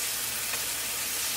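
Mahi mahi fillets sear in a hot pan with a steady, close, broadband sizzle that stays even throughout, no voices over it.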